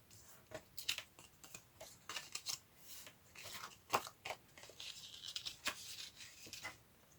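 Paper being folded and pressed down by hand during a craft challenge, giving a string of crisp, close crinkles and creases in irregular bursts, with no talking.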